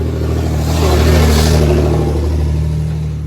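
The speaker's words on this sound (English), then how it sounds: "These are the trucks that are coming out of that East Coast bypass road." Trucks pulling out of the East Coast bypass road onto a busy, dusty highway, a loud engine surge swelling to a close pass then easing away, with a steady low drone beneath and no talk.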